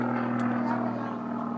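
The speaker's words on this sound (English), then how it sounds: "he's just really throwing the plane out of balance there" Stunt plane performing aerobatic maneuvers at an air show held at a softball game, a steady droning propeller engine with a strong hum, heard under people talking.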